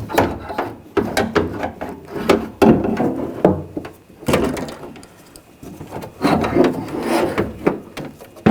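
A BMW X5 front window regulator, from the 2000–2006 generation, slides into the door with repeated scraping, rubbing and clunking of metal against the door panel in irregular bursts, close up and fairly loud, with no talk.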